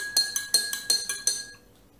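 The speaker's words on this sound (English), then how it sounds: "Give it a nice stir" A spoon clinks rapidly against a glass of diluted apple cider vinegar about six times in quick rhythm, bright and close, then stops.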